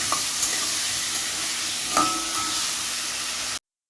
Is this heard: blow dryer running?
no